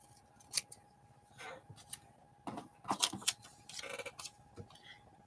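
Scissors snip through paper letters being trimmed down for a collage, a series of close, crisp cuts in uneven bursts with short pauses between them, no talking.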